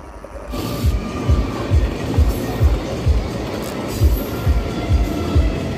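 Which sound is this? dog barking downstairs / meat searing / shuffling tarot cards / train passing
train passing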